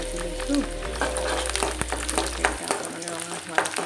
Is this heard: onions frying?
yes